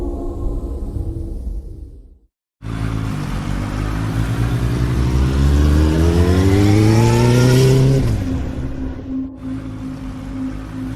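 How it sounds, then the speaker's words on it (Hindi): A motorcycle engine starts up and pulls away at night, its roar rising in pitch as it accelerates, loud and close, then settling to a steady drone as it rides off. "नील बाइक से अपने घर जाने के लिए निकला।"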